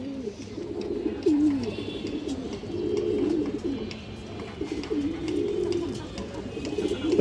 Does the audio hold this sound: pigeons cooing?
yes